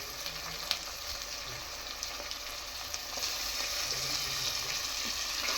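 Tomato going into a pan of frying onions with bay leaves for egg biryani, giving a steady close sizzle with a few light clicks of stirring and no talk.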